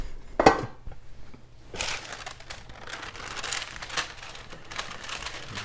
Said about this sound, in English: I was gonna get the pan ready